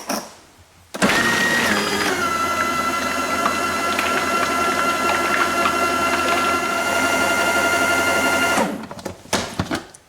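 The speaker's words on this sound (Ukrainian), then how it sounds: "Значить, потрібно літра сметани. От я вже переложила в чашку блендера." An electric blender whips sour cream for a honey cake cream, running at a loud, steady whir for about eight seconds before winding down with a few clicks and knocks.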